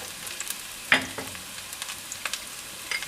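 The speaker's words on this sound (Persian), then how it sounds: "تا سیری هم که داشتیم سرخشون میکنیم." Garlic frying in a pan for a meatless Persian eggplant stew, a soft steady sizzle with a sharper burst of spattering near the start and light scattered crackles throughout.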